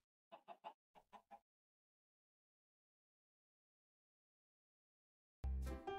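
Chicken in Minecraft clucking during a video game, six short clucks in two quick groups of three, then silence before a loud burst of other game noise at the end.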